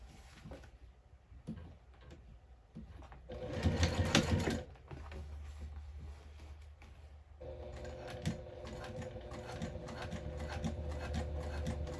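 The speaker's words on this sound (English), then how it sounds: "butterfly the seam open and top stitch" A sewing machine top stitches a bag seam in short, slow bursts, with a louder brief run midway and a steadier quiet hum later, alongside faint handling noises of fabric and parts.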